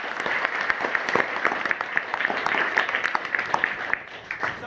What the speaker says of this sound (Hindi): एक बार मन के लिए जोरदार ताली होनी चाहिए।